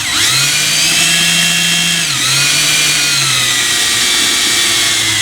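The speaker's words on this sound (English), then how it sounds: "So I'm just going to stick my finger in here with that sandpaper." A spinning Smart Fortwo fan motor whines loudly and steadily while sandpaper is pressed against it, producing a constant high rasping hum with a brief dip in speed midway.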